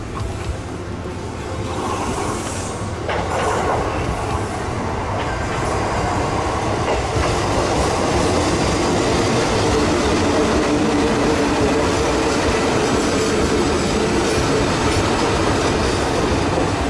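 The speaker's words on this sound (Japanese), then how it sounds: "ラッピング電車に乗る。" A wrapped train near Abashiri Station, Hokkaido, rumbles steadily along, with a continuous low roar of wheels on rails and some higher squeal and rattle, close and loud throughout.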